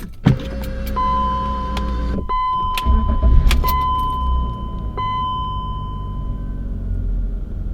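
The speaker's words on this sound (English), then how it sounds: "let's go ahead and start the car" BMW car being started from inside the cabin, with a key turn, warning chimes and a brief cranking surge followed by a low, steady idle hum.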